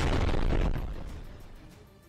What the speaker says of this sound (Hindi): काबुल में जोरदार धमाका, जिसका वीडियो भी अब वायरल है।